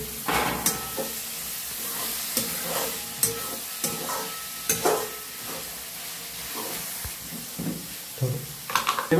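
Chopped tomatoes hit a hot pan of spiced egg bhurji and are stirred through, a soft sizzle under repeated spoon scrapes and clacks against the pan.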